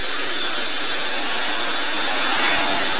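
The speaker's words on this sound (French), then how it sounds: "Cet avion, c'est un Saab Viggen." A Saab Viggen jet aircraft at a 1997 airshow in Sion roars steadily with a broad, loud engine rush that swells slightly toward the end.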